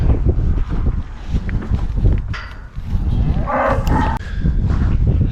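Cattle moo loudly and repeatedly up close while being loaded onto a trailer, the deep calls overlapping amid wind noise and rattling.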